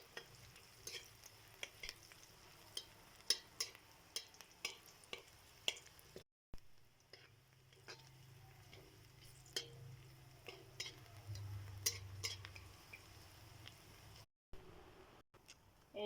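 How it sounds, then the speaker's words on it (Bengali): Chopped onion and green chili frying in hot oil: a faint, steady sizzle runs under a long series of sharp ticks and scrapes as a utensil stirs the pan, close by, with no talk. "এখন এর মধ্যে দিয়ে দেবো পেঁয়াজ কুচি, কাঁচা লঙ্কা কুচি। পেঁয়াজটাকে এখন আমি ভালো মতো ভেজে নেব।"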